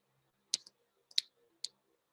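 Three crisp, close computer mouse clicks on a website, each a sharp double tick, spaced about half a second apart in otherwise near silence.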